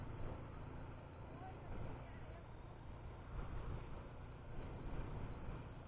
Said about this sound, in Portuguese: O mar tá nervoso.